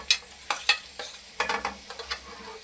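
Onion pieces dropped into hot oil in a pan for a restaurant-style Singaporean rice, giving a few sharp sizzling bursts and spoon clinks spaced over a couple of seconds, fairly close and without talk.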